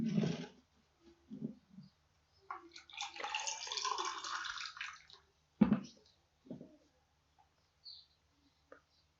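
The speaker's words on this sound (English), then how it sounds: "Let me get a glass of water." Water is poured into a glass in a close, steady splashing stream lasting a few seconds, with short knocks and clinks before and after in a quiet room.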